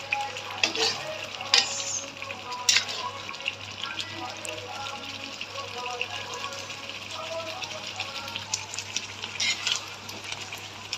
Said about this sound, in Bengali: এখন আমি মাংসটা একটু নেড়ে চেড়ে দেব